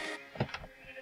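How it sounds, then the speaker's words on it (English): A sheep in the Minecraft video game gives a single short bleat in the middle of a brief, quiet stretch. "Oh, I hear another sheep."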